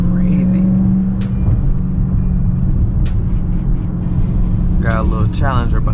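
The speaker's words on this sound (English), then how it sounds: "Supercharger sounds so crazy." Supercharged 2020 Dodge Charger Hellcat Widebody driving, a steady loud engine drone with supercharger whine filling the whole stretch, while people talk over it.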